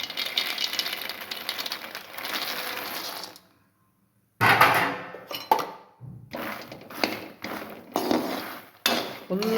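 Phool makhana (fox nuts) tumble into a pan with ghee while dry fruit laddu is being made. The nuts clatter and rattle in several bursts, with a brief silent gap between pours.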